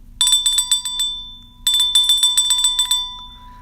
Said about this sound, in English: Gotta ring the bell.